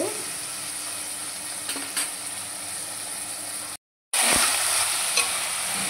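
Chicken curry with onions sizzles steadily in a pan while being stirred, with faint scrapes and a brief dropout before the frying resumes louder.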